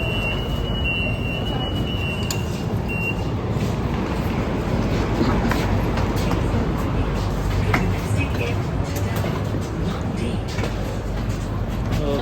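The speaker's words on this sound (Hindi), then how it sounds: "तो गाइस देखो मेट्रो मिल गई।" A Delhi Metro train rumbles and hums steadily, with voices of people chatting over the rolling noise and occasional beeps.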